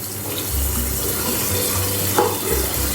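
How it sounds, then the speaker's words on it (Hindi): A cup of water is poured into a cooking pot of spiced beef pasanda masala, giving a steady splashing gush that continues for a few seconds with a brief louder splash partway through. "एक कप पानी डाल देंगे"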